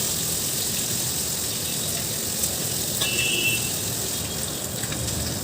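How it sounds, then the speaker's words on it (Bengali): Fish frying in mustard oil in an iron wok, a dense continuous sizzle and crackle close by, steady and loud throughout with no voices. "তা আমি এই মাছগুলোকে উল্টো পাল্টা করে ভেজে নিচ্ছি।"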